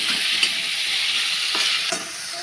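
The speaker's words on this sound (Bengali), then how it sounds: "টমেটোগুলো আমার মিক্স হয়ে গেছে, ভালোভাবে নাড়াচাড়া করে নিচ্ছি 2 থেকে 3 মিনিট।" Tomatoes cooking down in a pan for homestyle pasta, stirred with a spoon: a constant close sizzle with a few sharp scraping strokes against the pan, and no voices.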